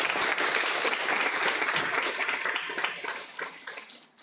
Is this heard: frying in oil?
no